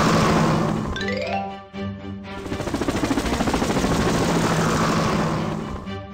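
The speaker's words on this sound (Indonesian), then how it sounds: "Helikopter. Helikopter, berangkat." Helicopter lifting off in a BabyBus children's cartoon game, with a rising rotor whine and a steady rapid chopping beat running loud and continuous after a brief dip, layered with bright game music.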